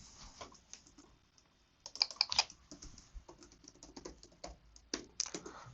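Computer keyboard being typed on while entering a password, a quick irregular patter of soft key clicks with a brief faster burst in the middle, close and fairly quiet, no one speaking.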